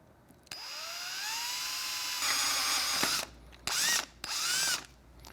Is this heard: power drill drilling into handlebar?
yes